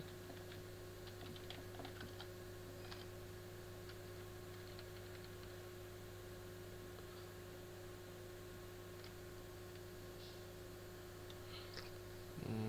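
Faint, quick keystrokes patter on a computer keyboard in small irregular clusters over a steady low hum and hiss, quiet and close throughout.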